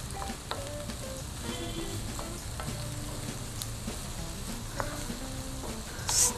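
Capsicum tops, pressed garlic and onion fry in a pan, giving a steady close sizzle with occasional light clinks and scrapes of stirring, and a sharper scrape near the end.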